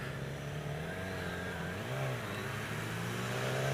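A 2016 Yamaha R6 60th Anniversary motorcycle engine revving in first gear, a steady mid-pitched drone rising and falling slightly as the throttle is worked, fairly close and continuous with no voices.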